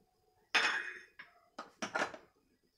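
A metal idli stand clanks and rattles as it is set down into a pressure cooker of hot water, a loud first clatter followed by a few smaller clinks.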